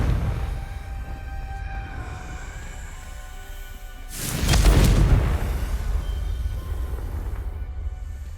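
A Confringo blasting spell goes off in Hogwarts Legacy inside a Slytherin maze, a single loud booming blast partway through that rises out of a low rumbling game ambience and fades back into it.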